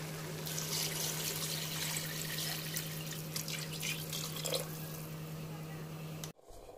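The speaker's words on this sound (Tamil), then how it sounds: "இப்போ மெஷர் பண்ணி வச்சா தண்ணியை ஊற்றிக்கிறேன்." Measured water is poured over rice in a pot for Dindigul biryani, making a continuous soft splashing trickle under a steady low hum, then cutting off abruptly near the end.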